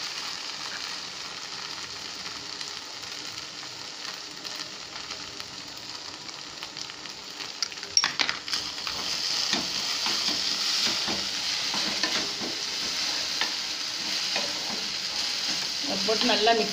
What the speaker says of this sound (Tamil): போட்டு நல்லா மிக்ஸ் பண்ணணும்